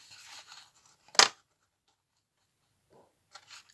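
A single sharp slicing crunch from a paper trimmer (massicot) cutting paper stands out near the middle, with faint rustling handling sounds before and after.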